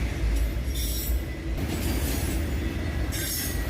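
CSX freight train passing close by with auto rack cars, a steady loud rumble of rolling wheels and rail noise with brief bursts of brighter squeal.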